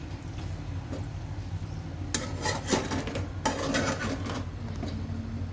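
A utensil stirs boiled potatoes with ginger garlic paste in a pan for Andhra potato pickle, with gentle scraping and rubbing, then two louder bursts of vigorous scraping against the metal pan, heard close up.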